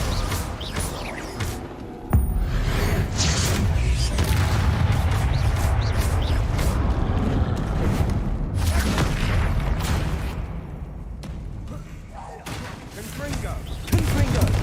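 Confringo and Descendo spell blasts in Hogwarts Legacy combat, a long barrage of booming impacts and crashes that starts with a sharp hit and then rolls on densely, with occasional voices.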